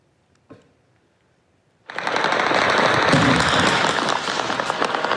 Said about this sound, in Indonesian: rentetan senjata dan ledakan terdengar di berbagai titik kota Erbil, Irak